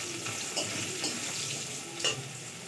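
Potatoes frying in a pan while being stirred, a steady soft sizzle with a few louder scraping stirs near and close, no talking.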